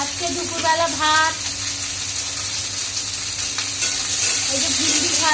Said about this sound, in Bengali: এই যে ভিন্ডি ভাজা